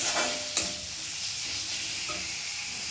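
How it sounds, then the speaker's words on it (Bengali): Spice masala frying in a pan for mustard bhetki fish, a soft steady sizzle with a couple of brief stirring scrapes near the start, close but fairly quiet, no talking. "দেখুন অনেকটা মশলাটা ভাজা হয়ে গেছে একদম।"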